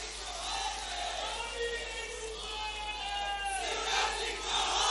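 A large crowd at a political rally chants slogans in loud, overlapping voices that rise and fall together, filling the outdoor space.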